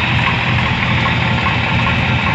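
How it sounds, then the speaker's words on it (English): A 454 big block V8 in a square body Chevy dually idles with an exhaust leak, producing a loud, steady, rough rumble with a constant low throb and no talking. "Sounds like it got an exhaust leak done."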